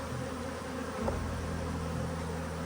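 Steady insect buzzing hums throughout at a constant level, a low droning of honeybees close by at a beekeeping hive, with no voices.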